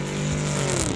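A Porsche Cayenne GTS, sharing its engine with the Panamera GTS, accelerating hard off-road, a close, loud, steady engine note holding a rising harmonic tone for about a second.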